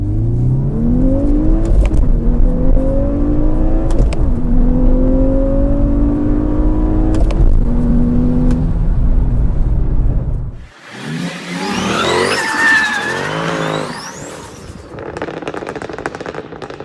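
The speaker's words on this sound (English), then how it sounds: "Let's do a little bit of a takeoff, see how that feels." A car engine revs hard through a takeoff, climbing in pitch through several gear changes over about ten seconds. A brief lull follows, then a noisier burst of engine and rattling sound.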